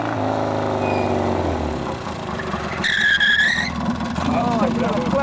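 Car tires skid and squeal during a timed driving run, with a loud high-pitched screech in the middle over steady engine noise while people talk.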